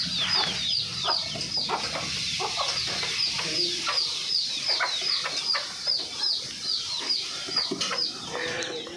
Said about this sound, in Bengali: পাখি আয় আয়, পাখি খা